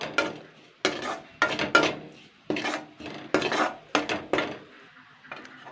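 Spoon stirring a lightly fried egg with a pinch of salt and sugar for a mashed egg-and-potato bharta, giving about ten clear scraping and clinking strokes against the pan, close and fairly loud, with no talk.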